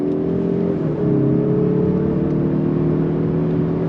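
A 2024 Mazda 3 Turbo pulls hard in second gear under manual paddle-shift control, its engine drone holding steady and loud, climbing slightly in pitch after a brief dip near the start with no one speaking.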